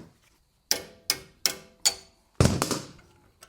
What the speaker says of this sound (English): why is that wrench slipping?